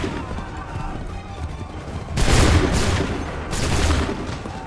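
Two loud musket volleys ring out in the Assassin's Creed III video game, each a dense crackling burst of many shots at once, heard over distant battle noise.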